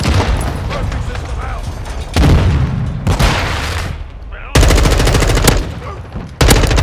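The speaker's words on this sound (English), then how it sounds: "they've resorted to rockets" Heavy Call of Duty Modern Warfare 2 combat with rocket explosions amid rapid automatic gunfire, loud bursts starting abruptly in several blocks with booming impacts; voices come through under the din.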